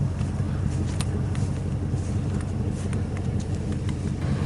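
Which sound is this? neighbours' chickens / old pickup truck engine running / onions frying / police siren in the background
old pickup truck engine running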